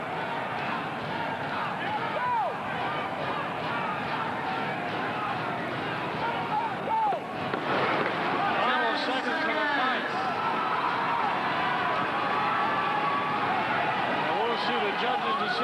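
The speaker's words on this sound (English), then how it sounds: "the crowd chants Mike Rica" A boxing crowd fills an arena with a steady roar of voices, swelling louder midway as chanting for a fighter rises, while a ringside commentator talks over the noise throughout.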